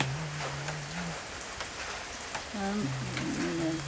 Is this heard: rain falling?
yes